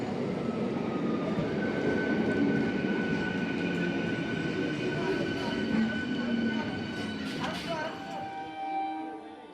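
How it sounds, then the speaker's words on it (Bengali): A South Eastern Railway EMU local train, Midnapore to Howrah service, rolls into platform 4 at Madpur station, its steady loud rumble and rail noise filling the scene with brief metallic screeches near the end as it slows. "এখন মাদপুর স্টেশনে প্রবেশ করছে 4 নম্বর প্ল্যাটফর্মে।"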